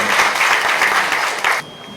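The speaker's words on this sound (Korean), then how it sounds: "토론회 분위기를 위해서 박수 유도를 하겠습니다" Audience applause at a welfare policy debate forum, a loud, dense burst of clapping from a seated crowd that continues steadily and then cuts off abruptly near the end.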